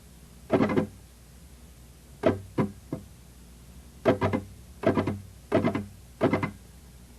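Flamenco guitar triplet rasgueado played slowly, thumb up, fingers together down, then thumb down, as sharp separate strums in groups of three with gaps between them, close and clear with no talking.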